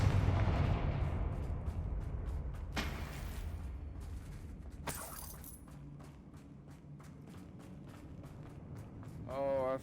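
The Confringo fire spell in Hogwarts Legacy fires as two sharp, bright blasts a couple of seconds apart, rising over a rumbling game background.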